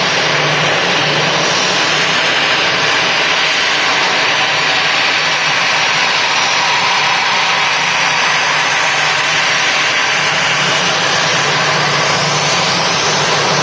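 Steady roar of EasyJet airliner jet engines at Manchester Airport, loud and broadband, holding constant without a break and with no voices over it.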